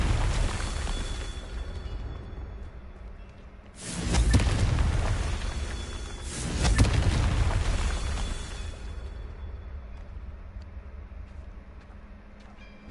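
Two booming blasts from the Confringo blasting spell in Hogwarts Legacy, a few seconds apart, each a loud broadband burst over a low continuous rumble of background ambience.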